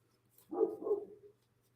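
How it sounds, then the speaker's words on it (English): A puppy barking upstairs, a short muffled double bark from a distant room, faint against a quiet background hum. "that is my puppy upstairs barking."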